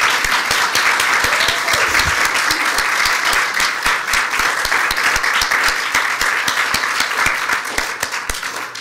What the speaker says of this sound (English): ladies, let's give them a round of applause and appreciate it